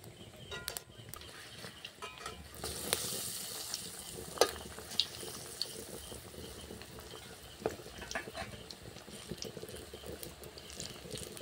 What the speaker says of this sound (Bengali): আমার লাল লাল করে ভাজা হয়ে গেছে